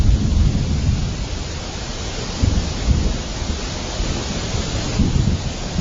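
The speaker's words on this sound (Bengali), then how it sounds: "মাঠে পাকা ধানের ওপর বৃষ্টি পড়েছে বলে কি খাবার খাবে না?" Rain pouring over fields of ripe paddy with thunder, a dense, steady roar of rainfall and low rumbling that swells and fades, with no voices.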